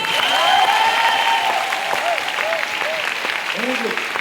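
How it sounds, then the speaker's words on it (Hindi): A crowd at a speech event claps continuously in a broad sustained wash, with a faint tonal voice or feedback drifting over the clapping. "मैं चाहता हूं जितने लोगों को समझ में आई ताली बजाकर बता दो।"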